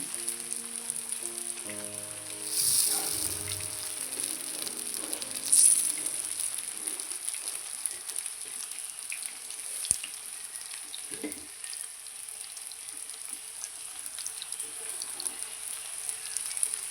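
Fish frying in a pan, a steady hissing sizzle that runs throughout at moderate level, with a few louder spits and clinks near the start and some faint background tones early on.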